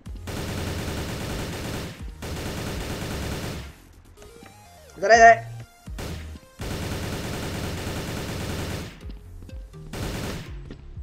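Automatic gunfire in an online shooter game sounds in several long sustained bursts separated by short pauses, loud and close, with a player briefly speaking between the volleys.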